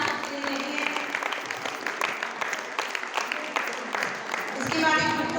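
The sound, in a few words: applause for the children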